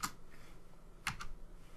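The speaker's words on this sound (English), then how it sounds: "Oh, my keyboard is acting up." Brief bursts of computer keyboard typing during accounting software work, a few quick clicks clustered at the start and again near the middle, close and fairly quiet.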